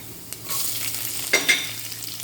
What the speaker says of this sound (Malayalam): കടുക് ഇട്ട് കൊടുത്തു. കടുക് പൊട്ടുമ്പോൾ ഇഞ്ചി ഇട്ട് കൊടുത്തു.